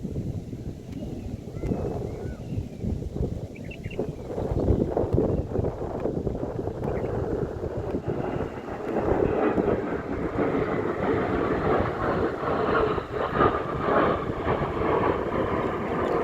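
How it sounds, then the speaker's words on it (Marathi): A loud, steady roar builds and rumbles as an airplane passes low overhead, with wind buffeting the microphone throughout. "पहिल्यांदाच एवढं खालनं गेलेलं बघितलंय मी विमान"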